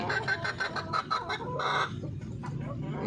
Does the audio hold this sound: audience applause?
no